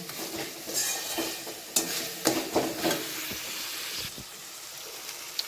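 Chicken curry with kasundi and fenugreek stir-fried in a pan: a steady close sizzle broken by scraping, knocking spatula strokes, with no talk.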